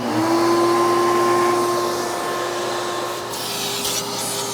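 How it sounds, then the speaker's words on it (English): A shop vac runs steadily while vacuuming the carpets inside a car, a loud continuous whine with a bright tone and rubbing, scrubbing sounds as the nozzle drags over the fabric. "I might as well just do a quick vacuuming with my shop vac professional."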